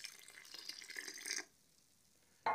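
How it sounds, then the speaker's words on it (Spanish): Water runs from a tap into a bowl of flour and yeast for bread dough, a short splashing pour that stops abruptly, followed by near silence and a brief clink at the end. "Acá mezclamos ya la harina con la levadura y le vamos a agregar el agua."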